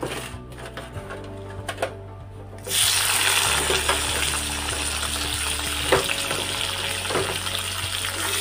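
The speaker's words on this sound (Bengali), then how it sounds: "পেঁয়াজগুলো ভাজা হয়ে গেছে" Onions fry in a pan with a little oil and sugar, a loud constant crackling sizzle that grows stronger partway through and continues with light stirring clicks.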